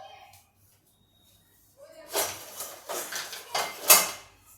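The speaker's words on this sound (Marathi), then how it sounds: "ही कढई घेतली आहे मी." A metal kadhai is set up for dum cooking a shahi veg biryani. After a near-silent start, a run of close metallic clanks and scrapes follows, several knocks in quick succession, with no voices.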